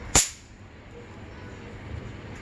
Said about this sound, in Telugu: గోడకేసి కొట్టేయి వాల్ బాంబులు, వాల్ టపాస్.